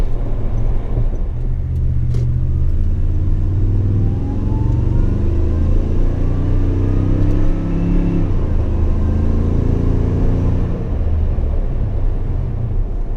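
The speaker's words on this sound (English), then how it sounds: "how was the Supercharger on the highway?" A supercharged 2017 Toyota Tundra Platinum pickup with a Magnuson supercharger cruises on the highway, giving a steady, loud engine drone with slowly rising and falling tones under continuous road rumble, no voices.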